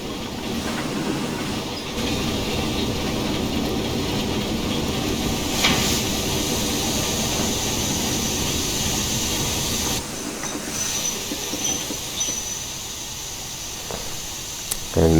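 An LMS 2F 0-6-0T dock tank steam locomotive in Train Simulator Classic runs with a steady rolling rumble and rail clatter, joined by brief hissing bursts and a clanking shift partway through, continuous and fairly loud throughout.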